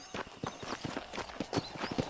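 Horse hooves clip-clop in a steady, even trotting rhythm across the ground in the Red Dead Redemption video game, close and moderately loud.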